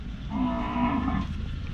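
A cow moos loudly and close at a cattle market in Wang Prachop, Tak, one sustained low call lasting over a second amid a busy outdoor background.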